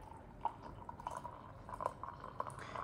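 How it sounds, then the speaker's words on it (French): Water poured into a container holding aged pu-erh tea, a faint liquid trickle with small drips and splashes, close and steady for a few seconds. "on le met dans un récipient et on met juste de l'eau, pas besoin de rincer"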